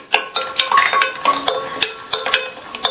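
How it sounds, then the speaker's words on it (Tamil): Cashews roasting in melted ghee in a pan over medium heat on the stove, with a steady soft sizzle broken by regular light clinks and scrapes of a spoon stirring against the pan, close and fairly loud. "அதுல 2 டேபிள் ஸ்பூன் நெய் சேர்த்து நெய் உருகுனதும் இதுல 15 போல முந்திரியை சேர்த்து நல்லா பொன்னிறமா வர வரையும் மிதமான தீயில வச்சு வறுத்து எடுத்துக்கலாம்"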